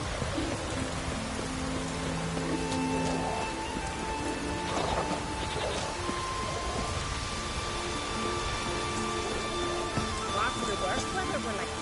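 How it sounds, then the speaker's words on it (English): Steady rain falling in the game The Witcher 3, a constant dense hiss with faint rumbles, while characters talk over it. "Oh, raining again."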